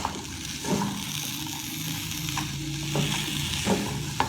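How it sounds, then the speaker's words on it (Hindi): Shredded cabbage and mint leaves are stirred in a hot pan for a vegetable sandwich filling, giving a soft sizzle with several scraping, tossing strokes close by. "इसको अच्छी तरह से मिक्स कर लेते हैं"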